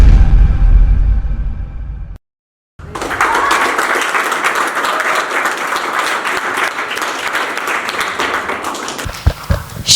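Audience applause after a dance performance on a kids' dancing competition show, a steady dense wash of clapping that follows a brief silence and carries on for several seconds, with a few louder claps near the end.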